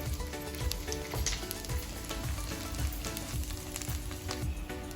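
Vegetables for a biryani sizzle and fry steadily in a pan, a dense, continuous crackle at close range with no talking.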